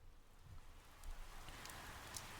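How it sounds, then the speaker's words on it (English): Soft rain pattering against a window pane, a quiet steady hiss of drops with a few faint taps, gentle and close with no voices. "You woke to the soft patter of rain against the window pane"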